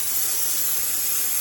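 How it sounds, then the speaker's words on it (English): Steady, loud, continuous hiss of a handheld steam cleaner jetting steam onto baked-on food, an unbroken close spray with no pauses or talk. "You can see all that steam."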